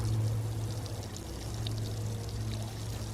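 Rainwater mixed with liquid organic fertilizer pours steadily onto a tomato plant growing in a container garden, a close, continuous splashing gush with no talk over it.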